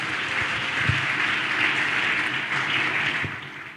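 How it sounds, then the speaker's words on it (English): A crowd at a church event applauds steadily throughout, a dense wash of clapping with occasional louder claps standing out; no talking. "Please give the IGP another round of applause."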